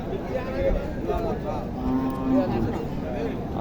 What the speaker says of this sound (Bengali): চমৎকার গরুটি।